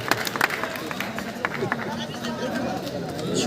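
Audience clapping at a campus poetry evening, scattered claps and crowd murmur that build gradually toward the end, with a speaking voice over the applause.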